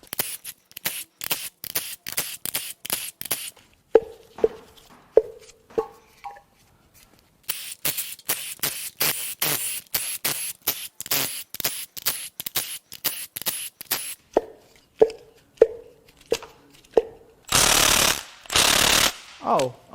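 Ratchet clicking in rapid bursts while spark plugs are removed from a 5.7-litre engine in a 2015 Dodge Ram 2500, close and loud with brief pauses, ending in a couple of longer harsh bursts.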